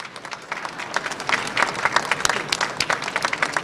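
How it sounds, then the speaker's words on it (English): An audience at a government announcement with Natural Resources Minister Tim Hodgson and New Brunswick Premier Susan Holt breaks into dense, sustained clapping that swells and stays lively, a roomful of hands close and loud. "How about a round of applause for her?"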